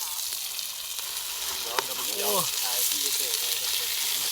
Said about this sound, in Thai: เทหนังหมูลงก่อนนะครับ